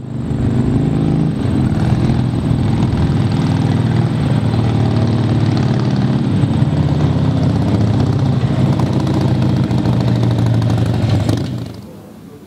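A Harley-Davidson Sportster 883 with a 1250cc big bore kit, CNC heads and a 600-lift cam roars loud and steady at high revs on a dyno, a sustained engine drone that cuts off near the end.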